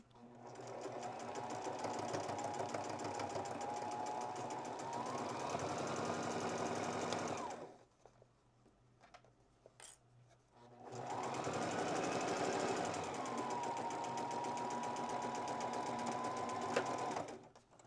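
A sewing machine stitches along a shirt placket in two long steady runs, a close rhythmic mechanical whir, separated by a quiet pause with small handling clicks.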